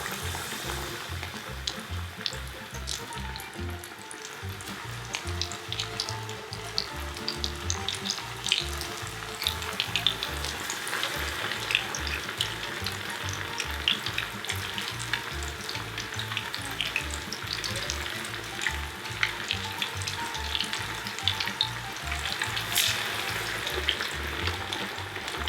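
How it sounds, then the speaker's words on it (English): Battered fish fries in a pan of half olive oil and half rice oil. A close, steady sizzle continues evenly throughout with no talking. "Take it like this, put in the batter. And put in the fry pan."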